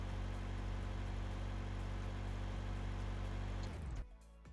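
A simulated car engine idles in emergency mode in a driving simulator, with a steady, droning hum that cuts off abruptly near the end.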